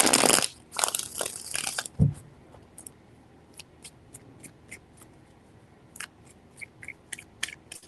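A deck of tarot cards being shuffled: a couple of loud, papery riffling bursts in the first two seconds, then a quieter stretch of scattered light taps and flicks of cards, close up with no voices.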